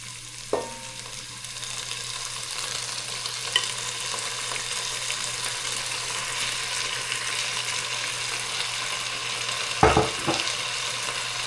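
Garlic and onions fry in a pan for beef kaldereta, giving a steady, loud sizzle throughout with a couple of brief clanks of a utensil against the pan.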